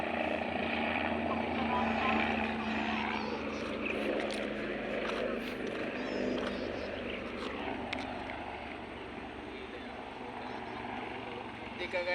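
Helicopter flying overhead above Pantabangan, Nueva Ecija, a steady broadband rotor and engine drone held at a constant level throughout, with people talking over it.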